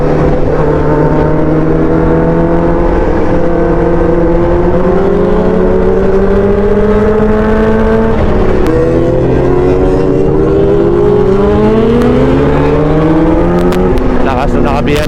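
A loud BMW engine revs up close on a road at Tagaytay Highlands, a steady roaring drone whose pitch climbs and shifts as it accelerates past.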